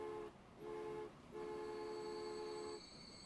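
Trains in the Transport Fever video game sound a few faint, sustained horn-like tones, one short and one longer, over quiet rail ambience.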